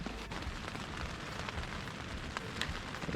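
Steady rain drums on the roof of a parked camper van during a long downpour on the Pennine Way, a dense continuous patter with occasional louder drips, close and even throughout with no talking.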